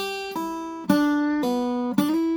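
Guitar phrase played with pull-offs, four evenly spaced plucked notes ringing clearly in turn, each the same length, alone with no talk.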